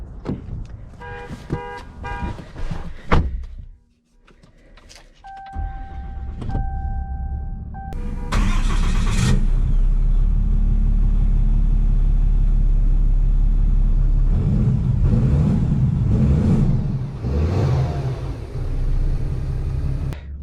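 A 2020 Ram 2500 Laramie Night Edition pickup starts up: a few chimes, then a deep engine rumble that holds steady and swells as the truck pulls away, heard from inside the cab.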